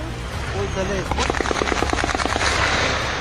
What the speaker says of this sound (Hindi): उसी वक्त दूसरी ओर से तड़ातड़ गोलियां बरसाई जा रही हैं।